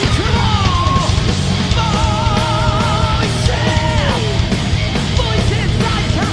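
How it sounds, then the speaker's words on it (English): Crowd screaming and yelling at a Japanese metal concert, a loud, continuous wash of voices with sustained high cries layered over dense roaring noise, filling the whole stretch without a break. "Everybody screaming, come on!"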